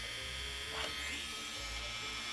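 A Dremel rotary tool buzzes steadily and faintly as it cuts a notch in a PC case for an HDMI cable, a continuous electric whine with no pause.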